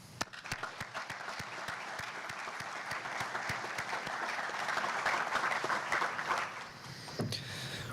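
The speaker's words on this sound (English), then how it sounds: "a feat that deserves a round of applause" Sustained audience applause at a spring 2022 Air Force ROTC commissioning ceremony, steady clapping from a large crowd filling the room, loud and continuous before tapering off near the end.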